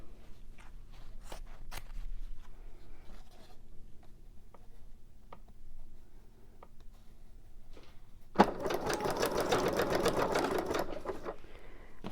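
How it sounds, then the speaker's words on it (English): A sewing machine runs a zigzag stitch through fabric while making a junk journal belly band, a steady loud mechanical whirr for several seconds near the end, after quieter handling clicks and rustles. "And I'm going to sew my zigzag."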